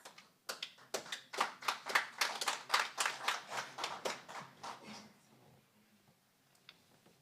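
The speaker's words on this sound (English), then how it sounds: "Can we give them a round of applause as they prepare themselves?" An audience applauds the UFS Qwaqwa Campus Choir at an Africa Week event, a brisk run of distinct, rhythmic claps that swells, then thins out and fades away after about five seconds, leaving near silence.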